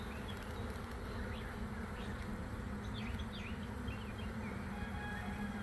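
Honeybees swarm over their comb at a garden hive, making a steady, dense buzzing drone with occasional louder passes of individual bees close by. No one speaks.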